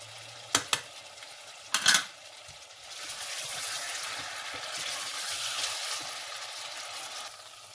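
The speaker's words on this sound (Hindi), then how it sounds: "और चिकन को भूनेंगे अच्छी तरह।" Chicken pieces being browned in a pot for a Punjabi-style chicken shorba, starting with a few sharp metal clinks from stirring before a steady close sizzle settles in for the rest.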